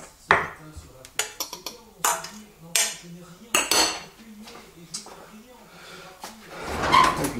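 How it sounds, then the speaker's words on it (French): A spoon scrapes and clinks against ramekins being filled with mushroom and truffle cream, sharp separate taps at an uneven rhythm, close by, while a person talks throughout. "maintenant on remplit nos ramequins"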